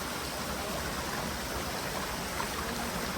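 Steady, faint rush of flowing stream water at Tso Kong Tam, a constant broadband wash without pauses and with no talk over it.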